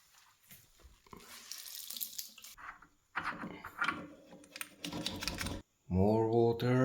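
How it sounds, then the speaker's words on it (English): Water runs from a hose and tap under a sink while an under-sink 10-liter electric water heater is being set up, a steady broadband rush broken by clicks and handling noise, ending in a loud close burst. "So water is being released from this hose."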